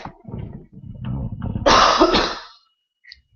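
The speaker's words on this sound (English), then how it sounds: "Excuse me while I cough." A single hoarse cough up close, followed by a short pause of quiet.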